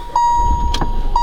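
The 1-litre petrol engine of a 2018 Kia Stonic catches and starts up close by, a brief low rumble under a steady high electronic chime that pings repeatedly.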